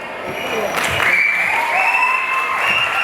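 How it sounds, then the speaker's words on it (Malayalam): Students applauding at a large college event, a steady wash of clapping from a crowd that runs for the whole stretch at an even level, with no pauses in it. "കൈയടിക്കാൻ ആളെ അവിടെ വെച്ചിട്ടുണ്ട് അതിൻ്റെ ഇടയിൽ കൂടെ"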